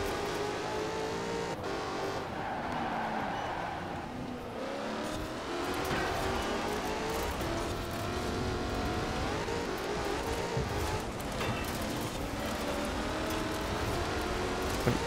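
A car laps a track in Forza Horizon 4, its engine revving and shifting steadily at moderate volume with occasional tire noise, continuous throughout with no talking.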